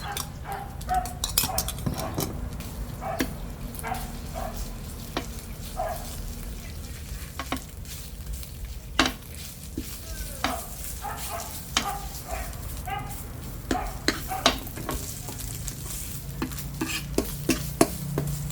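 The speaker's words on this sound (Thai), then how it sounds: "เราก็ผัดให้ที่แกงหอมก่อนนะคะ" Red curry paste stir-fried in oil in a pan while cooking crispy fried catfish, a low sizzle broken by frequent sharp spatula scrapes and clacks against the pan, with brief background sounds.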